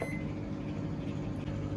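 A microwave oven hums steadily on a four-minute timer while cooking masala idli, a low, even drone heard close and alone for under two seconds.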